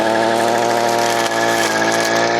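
A Vevor 52cc two-stroke hedge trimmer engine runs at a steady, buzzing pitch, loud and near, holding an even drone with no talk.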